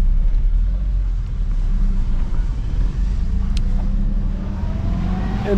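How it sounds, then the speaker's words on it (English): A car driving out of Kathmandu, Nepal, with a steady low engine and road rumble heard from inside the vehicle, loud and continuous. "here we are, driving out of Kathmandu"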